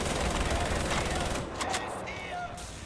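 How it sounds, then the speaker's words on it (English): Machine gun fire in Wolfenstein: The New Order: a loud, continuous rattle of rapid shots fills the first half, then breaks off into scattered sharper reports and lighter game noise. "they've got a bloody machine gun thing there"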